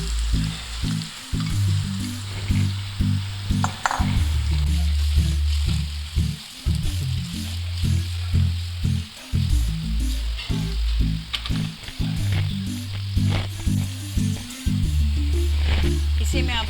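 Chicken liver (kaleji) frying with ginger and garlic in a pan makes a loud, continuous sizzle, accompanied by a pulsing low tonal drone that starts and stops in repeated stretches.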